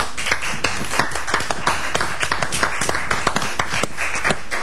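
Studio audience on a French TV show clapping to welcome two guests onto the set, a dense, steady patter of many hands held at an even level throughout.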